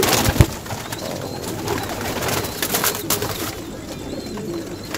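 Madrasi racing pigeons cooing in soft repeated calls close by, with a sharp flutter or thump near the start and faint background noise throughout.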